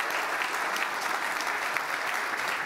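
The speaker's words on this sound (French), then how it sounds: "Vous pouvez les applaudir, un trophée de bronze." An audience at an insurance industry awards ceremony applauds a bronze trophy winner, giving a steady, dense round of clapping from a sizable crowd that holds even throughout.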